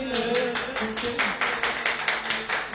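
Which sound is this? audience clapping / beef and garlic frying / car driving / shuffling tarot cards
audience clapping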